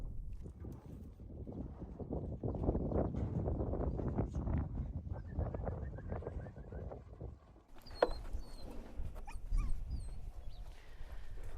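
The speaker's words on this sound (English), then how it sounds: "Bring that feed so we can feed the dogs." Kangal dogs being fed in rural Turkey: a dense burst of barking, yips and whimpers from several dogs, close and loud, thinning into scattered whines and squeaky yelps toward the end.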